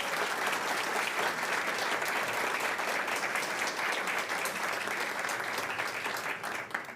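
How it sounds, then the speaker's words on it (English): Town hall audience applauding students, steady continuous clapping from a sizeable crowd that holds level and then tapers slightly at the end, moderately distant and with no talk over it. "We can give them a round of applause one by one."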